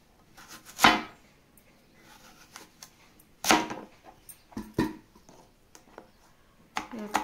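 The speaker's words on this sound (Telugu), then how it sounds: "ఇలా చెక్కు తీసేసుకొని సన్నగా ముక్కలుగా కట్ చేసుకోవాలి." A knife cuts peeled fresh mango into thin slices for dry mango pickle, giving a few sharp separate chops at irregular intervals with quiet pauses between them, close and moderately loud.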